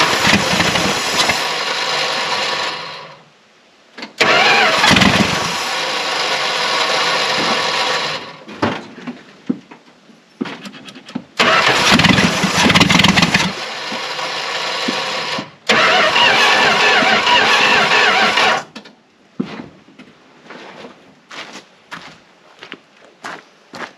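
A 1975 Dodge W200 truck engine, abandoned for 15 years, cranks and fires in several loud, rough bursts separated by short silences, ending in sputtering, uneven catches as it struggles to keep running.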